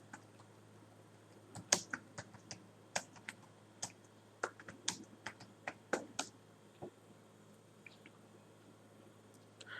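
Keys clatter on a computer keyboard as a search term is entered, a quick irregular run of sharp clicks, close and fairly quiet, with a pause near the end and no talk.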